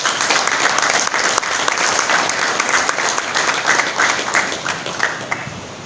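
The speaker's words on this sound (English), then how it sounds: "Yes, let me have a clap." A large crowd claps steadily and loudly at a medical graduands' induction ceremony, a continuous wash of applause with no pauses throughout.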